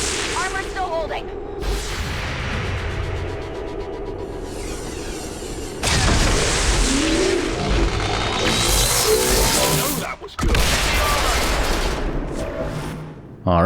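Reaction shots and an explosion in the XCOM 2 video game: loud bursts of rapid gunfire and booming blasts in several dense stretches, with brief pauses between volleys.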